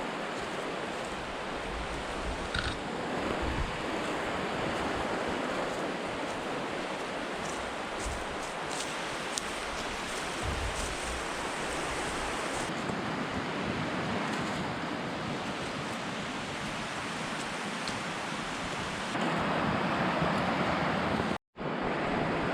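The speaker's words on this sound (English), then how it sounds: "it's a little breezy" Wind buffets a rock spit on a river island, a steady loud rushing roar with gusty swells throughout and a brief dropout near the end, with no voices.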